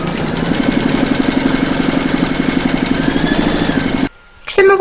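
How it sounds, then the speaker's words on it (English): An embroidery machine stitches a design in the hoop with a fast, even mechanical whir and regular needle pulses, running steadily before stopping abruptly near the end. "Pop your hoop back into your machine and stitch round number seven to secure it."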